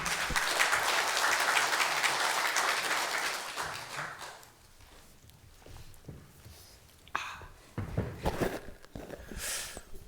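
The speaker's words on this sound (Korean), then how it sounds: "두 분께 다시 한번 큰 박수 부탁드립니다" Applause from an audience at a KIST lecture event welcoming two speakers, dense and sustained at first, then thinning into scattered claps, shuffling and a few murmurs.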